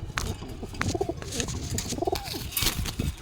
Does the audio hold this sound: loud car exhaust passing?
no